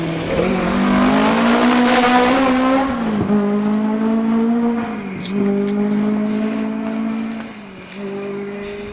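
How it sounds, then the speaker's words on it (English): A slightly unwell 2-litre historic-spec Ford Escort Mark II rally car on a special stage of a stages rally, its loud engine note holding steady then dipping and rising again through gear changes as it passes close by. "Slightly unwell Ford Escort Mark II."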